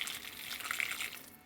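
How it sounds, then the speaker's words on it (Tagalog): A small splash of water poured into a pan of thinly sliced beef adobo, a soft steady trickle and hiss at low level, heard alone. "lagyan muna natin siya ng kunting tubig"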